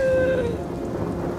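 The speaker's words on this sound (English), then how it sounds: "Rain!" Cartoon rain and thunder from an animated Equestria Girls short, a steady loud wash of downpour with a rumbling roll and a bright tonal sting at the start, no voices.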